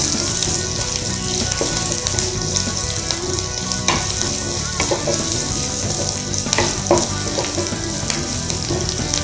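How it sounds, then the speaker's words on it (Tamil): Cumin, ginger and garlic sauté in hot oil in a pan, making a loud, steady sizzle with occasional stirring scrapes and clinks throughout, no voices. "பூண்டு வந்து கொஞ்சம் லைட்டாக வதங்கணும்."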